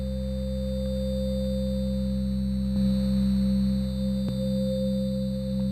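A MicroKorg synthesizer plays a dry organ-like tone for an 8-bit soundscape, sustained steady pitched notes with no effects, holding evenly for nearly six seconds with a faint shift midway.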